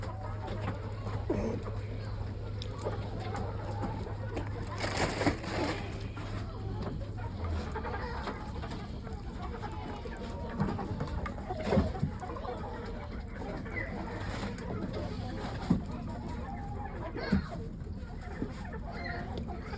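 A coop holding forty or fifty chickens gives off scattered soft clucks and occasional sharper calls over a low steady hum, with a person talking at times.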